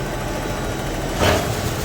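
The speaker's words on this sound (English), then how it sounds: "And let's engage our PTO." A tractor engine running with its PTO engaged, a steady, loud rumble with low idling hum and a slight surge about halfway through, continuous and close.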